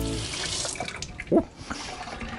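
Hot water runs from a tap inside a Winnebago Horizon motorhome, supplied by an Aqua-Hot system, a steady close splashing flow lasting throughout with a brief louder gush midway.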